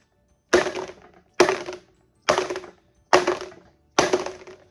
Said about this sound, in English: So now I'm going to shake them and bang them to get the air bubbles out.